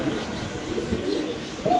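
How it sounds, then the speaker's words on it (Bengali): Silver pigeons at a pigeon farm coo in soft, low murmurs over a hazy background hum, faint and close. "খুব সুন্দর এক জোড়া সিলভার কবুতর দেখাবো"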